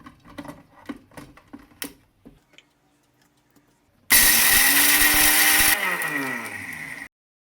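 ELGI Ultra Stealth mixer grinder blitzing slightly roasted pepper. Light ticking and tapping come first, then the motor bursts in loud and steady for about three seconds and dips to a slightly lower whine before stopping abruptly.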